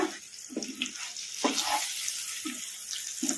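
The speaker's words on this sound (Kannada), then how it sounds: "ಈಗ ಈ ಮಸಾಲ ಎಲ್ಲ ಈ ಕಡಾಯಿ ಹೀಟಿಗೆ ಫ್ರೈ ಆಗ್ತೈತಿ" Masala fries in a hot kadai for stuffed egg fry, with a soft continuous sizzle. A spoon stirs and scrapes at a rhythm of about one stroke a second, and no one speaks.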